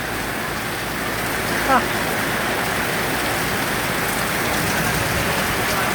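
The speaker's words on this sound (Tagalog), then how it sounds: "Lakas ang ulan, no?" Steady, dense heavy rain during a typhoon, a constant hiss and wash of falling water with a brief faint sound near the middle.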